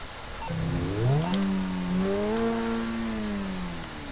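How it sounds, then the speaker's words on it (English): In GTA Online, a Grotti Turismo R's engine and exhaust rise in a smooth rev, then hold a steady, moderately loud drone without speech. "Let's hear the exhaust note again."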